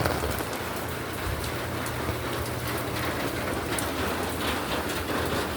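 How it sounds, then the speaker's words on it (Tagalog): Heavy rain pours steadily onto a dark road, a dense, unbroken hiss that stays loud and even throughout with no voices. "Umuulan, naulan, madilim pa."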